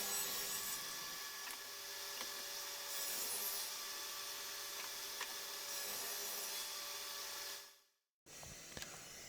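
A steady, rasping cut through wood, making assembly grooves, runs for several seconds, then stops abruptly before a brief resumption of faint scraping.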